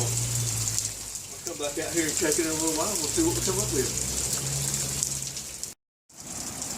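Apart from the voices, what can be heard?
light rain falling outdoors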